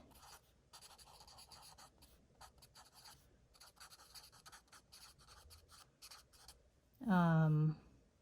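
Pen writing by hand in a paper planner, a steady scratchy scribble of short strokes running quietly throughout, ending in a brief louder burst.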